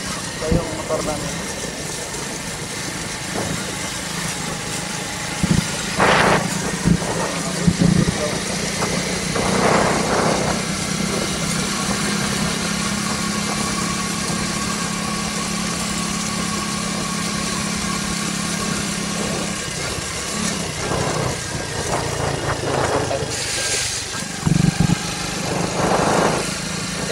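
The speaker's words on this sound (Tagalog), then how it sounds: "Ito yung motor namin." A motorcycle engine idles steadily in a constant low drone throughout, with a few brief louder bumps and clatters along the way.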